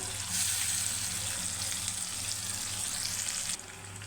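Cucumber tamarind chutney frying in oil in a pan, a loud, dense, continuous sizzle close up that drops slightly in level near the end.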